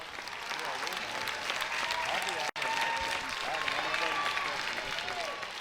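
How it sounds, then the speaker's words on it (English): A softball crowd at an NCAA game stands and applauds, dense continuous clapping filling the ballpark at steady volume, with a brief dropout midway and cheering voices mixed in. "And the crowd will stand and do their clapping to get that last out."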